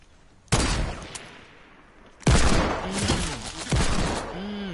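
Video game gunfire erupts in three loud bursts of rapid shots, each onset sharp and then sustained as a roaring volley, with brief quieter gaps between; a voice talks faintly underneath.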